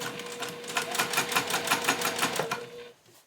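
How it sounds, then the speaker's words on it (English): A sewing machine back stitches the bottom finished edge of a seatbelt-webbing belt bag, a steady fast mechanical chatter of needle strokes running for about two and a half seconds before stopping. "I think I'm going to start sewing it from this side because it'll be easier for me to go up to the zipper."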